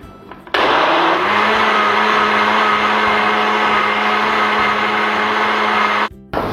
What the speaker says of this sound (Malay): dan kita blender sekali lagi